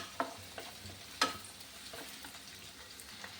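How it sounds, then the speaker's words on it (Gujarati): Onions sauté in heated oil and ghee while being prepared for paneer bhurji, giving a soft steady sizzle with a few faint stirring clicks and taps, quiet and close with no talking. "ડુંગળીને સરસ સાતળવાની છે આપણે."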